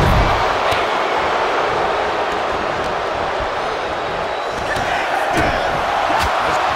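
A large arena crowd in WWE 2K24 Royal Rumble game play roars and chants along in a steady, loud wash, with faint thuds and a commentator's voice underneath.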